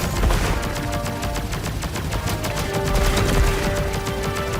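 Rapid, continuous gunfire from the video game Contra Operation Galuga, a dense, steady stream of shots with no pauses and no voices.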